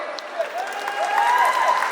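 An audience at a movie audio launch in a mall applauds, a brief crowd clapping swell that builds over about two seconds while a tonal voice rises above it.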